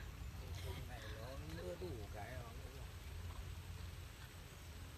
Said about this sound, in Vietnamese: lại mưa tiếp rồi